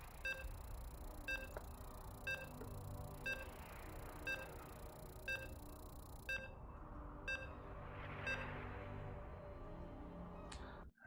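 Short, evenly spaced electronic beeps, roughly one per second, sound while a StarCraft II match loads in a grand finals esports series, faint over a steady background hum.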